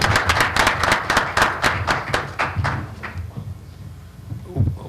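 An audience breaks into applause to welcome a speaker at a climate conference, crisp claps densely overlapping before thinning out and fading.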